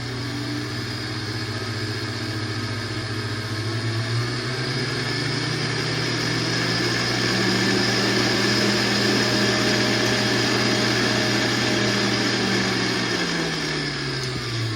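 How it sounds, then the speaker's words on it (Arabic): A Kenwood stand mixer running at its first speed hums and whirs steadily the whole time, with its motor pitch shifting a little along the way. "ده صوت الكنود، فرق بسيط جدا بينها وبين الجانو"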